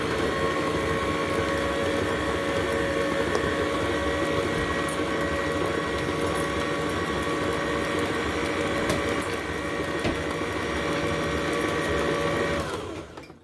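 An electric mixer whisks vanilla cake batter in a steady, loud, continuous whir with a constant motor pitch, running alone without talk and cutting off abruptly at the end.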